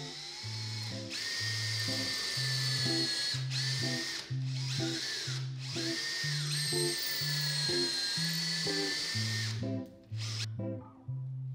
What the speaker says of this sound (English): And then start drilling.